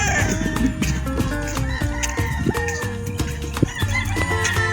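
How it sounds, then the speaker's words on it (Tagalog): Chickens on a farm cluck and a rooster crows amid a busy barnyard chorus, overlapping calls close by and loud, with a faint voice now and then underneath. "Puro manok."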